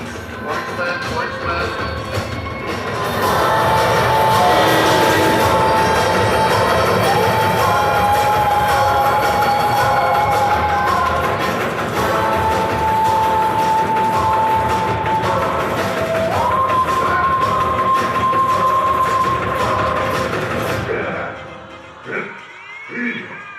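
A train runs on rails, a loud continuous rumble and clatter with a steady whining tone through most of the passage before cutting off near the end, with voices mixed in.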